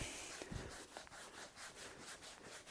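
Conditioner rubbed into a leather car seat by hand with a cloth, producing soft, faint, rhythmic swishing strokes repeating steadily at close range.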